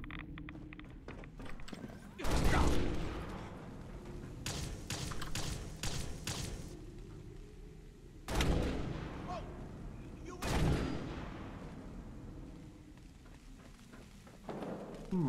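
Gunfire crackles in modded Fallout 4 in bursts of sharp, loud shots that recur through the stretch, mixed with thuds and a low rumble, heard alone without talk.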